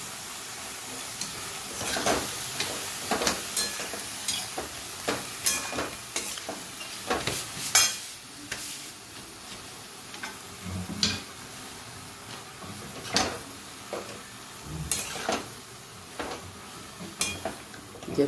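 Leafy greens (bhaji) tipped into a hot pan alongside grated radish and stirred, giving a steady sizzle broken by repeated scraping strokes of a spoon against the pan, close and moderately loud with no talk.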